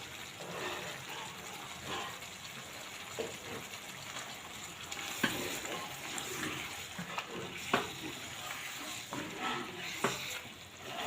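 Chicken liver and gizzards sizzle steadily in a pan with coriander, salt and black pepper, with a few sharp clicks of a utensil stirring them.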